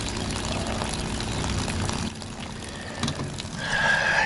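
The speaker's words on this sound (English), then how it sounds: "Water is a-flowing." Water from an RV pump flows out of a hose and pours in a steady rush over a low hum. The flow shifts partway through and grows brighter and louder toward the end.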